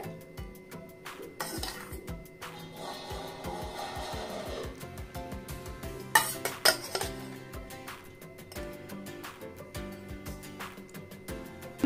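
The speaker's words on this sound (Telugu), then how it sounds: "మనం ఈ కర్డ్ ఈ చికెన్ పీసెస్కి బాగా పట్టేటట్టు మనం బాగా కలుపుకోవాలి." Small chicken pieces are mixed with curd, turmeric and salt in a bowl, giving soft wet squelching and stirring with intermittent clinks and knocks of utensils against the dish, fairly quiet and close.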